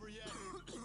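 A short, muffled cough and throat-clearing comes from a character choking on tear gas from a gas grenade in the video game SWAT 4, heard as a single brief rasp.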